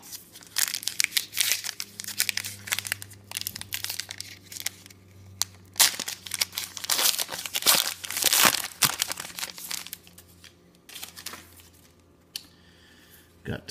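Crinkly foil wrapper of a 2008 Allen & Ginter baseball card pack being torn and crumpled, a close run of irregular crackling rips and rustles throughout, with a low hum underneath.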